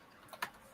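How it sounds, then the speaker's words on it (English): A couple of quick clicks from a computer keyboard, one soft tap followed by a sharper keystroke, brief and close against quiet background hiss. "I've just noticed Caroline's typing"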